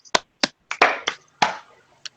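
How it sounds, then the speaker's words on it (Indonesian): Children clap along in a group session, producing a handful of sharp, separate claps in quick pairs and singles, close and fairly loud with short pauses between them. "tepuk 2 kali"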